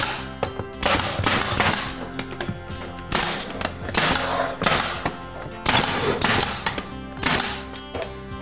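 A nail gun drives nails into crown molding during installation, a series of sharp, loud pneumatic bangs in uneven clusters, each shot followed by a short hiss and thunk, up close with no talk.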